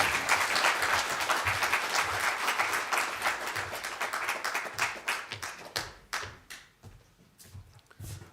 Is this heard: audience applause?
yes